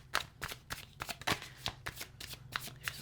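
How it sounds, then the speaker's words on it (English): Tarot cards laid out one by one from a deck for a five-card reading, giving a series of crisp slaps and shuffling flicks at an uneven rhythm, close and fairly quiet, with no talk. "I'm going to lay out 5 cards"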